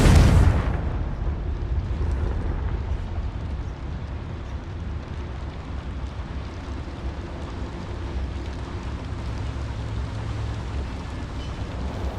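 A Confringo spell explodes in the Hogwarts Legacy video game, opening with a sharp loud blast that decays into a long, low rumbling roar lasting several seconds.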